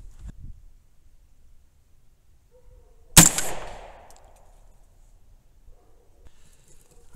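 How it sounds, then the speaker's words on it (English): A single sharp JR Carbine rifle shot rings out at an outdoor range while firing at 100 yards, loud and close with a short fading echo amid quiet surroundings. "First shot, 50 yards. I call that sighted in. Shooting 100 yards."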